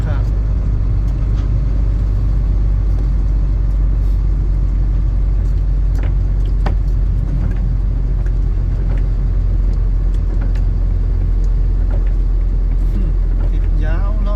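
Idling and creeping cars and trucks rumble in a long traffic jam on Route 12 near the Laos border, a low continuous engine drone close by with occasional faint clatters, while people talk over it.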